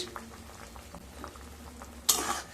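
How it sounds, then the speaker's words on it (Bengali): Green mango chutney syrup simmering in a pan, soft steady bubbling and popping at low volume, with a brief louder splash or stir near the end; no voices. "ঝোলটা ফুটে এসছে।"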